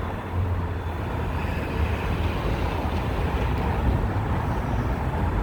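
Road traffic heard from a high vantage point above a roadway near train tracks: a steady, distant wash of vehicles that rumbles continuously without pause and with no voices.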